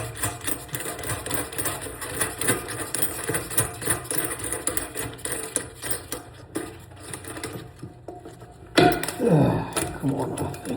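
An old bathroom sink faucet being unscrewed and worked loose, giving dense rattling metallic clicks and scraping close by, with a louder clatter near the end.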